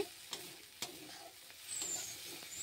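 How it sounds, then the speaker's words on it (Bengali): A quiet sizzle of spices frying in a pan (cumin, dry chilli and bay leaves, with turmeric and ginger paste), broken by a few sharp clicks and scrapes of a spoon stirring. "এই যে মশলাটা ভাজা ভাজা করছি"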